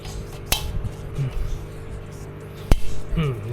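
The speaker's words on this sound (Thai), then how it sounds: "ูกปืนต้องตีให้สุดนะเพื่อน ถ้าลูกปืนตีไม่สุดมันก็ใส่กิ๊บไม่ได้" Metal wheel bearing on a Honda CB500X being driven home with two sharp hammer taps spaced about two seconds apart, each a bright ringing clank over faint workshop background.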